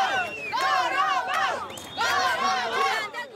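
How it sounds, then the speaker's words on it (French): Crowd in the streets of Fuzuli, Azerbaijan, shouting and cheering loudly in two sustained surges of massed voices; chanting dominates, with clapping hard to pick out. "c'est toute la population qui sort dans les rues et applaudit"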